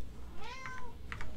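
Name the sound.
hungry cat meowing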